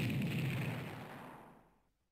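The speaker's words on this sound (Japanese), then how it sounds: "爆発したような音はエレベーターの方から聞こえてきた。" An explosion sound effect from the DS mystery game Tantei Jinguji Saburo: a muffled booming blast that rumbles and decays into silence over about two seconds, with no speech.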